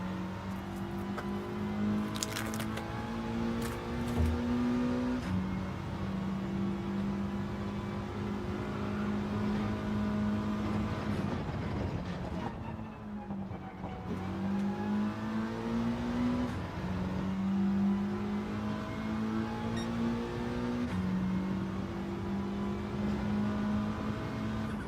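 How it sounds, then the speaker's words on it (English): Group 4 race car in Gran Turismo 7 revs hard throughout, its engine note climbing and dropping repeatedly through gear changes, loud and continuous with no talk over it. "So you rev this one out, don't you, in Group 4? You rev the shit out of it."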